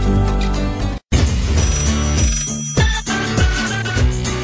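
A telephone rings in a radio advertisement, a bright electronic ringing tone with music underneath, interrupted by one brief dropout near the start and continuing loudly to the end.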